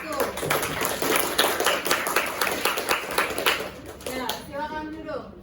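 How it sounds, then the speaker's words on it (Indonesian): Classroom applause for a student group after their presentation, a steady patter of many hands clapping with voices chattering over it, fading near the end as someone speaks. "kalau tidak beri tepuk tangan untuk kelompok 1"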